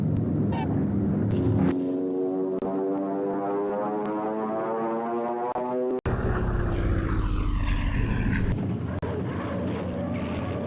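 A propeller aircraft passes over an aircraft carrier, its engine drone rising and falling in pitch like a passing flyby, loud and continuous, with an abrupt change in tone midway.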